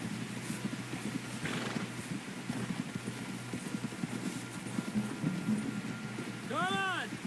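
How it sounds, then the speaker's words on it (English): Horse hooves trot in a steady clip-clop rhythm under faint ambient noise in the Red Dead Redemption 2 video game, with a brief whinny-like call near the end and voices talking. "Someone help John down off this horse."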